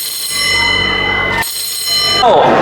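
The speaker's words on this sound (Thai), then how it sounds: "ผู้แจ้งเหตุกดกริ่ง สั้น 5 ครั้งเป็นสัญ" Electric fire alarm bell ringing loud and continuous, briefly cut off and then resumed, during an office building fire drill, with a whooshing sound near the end.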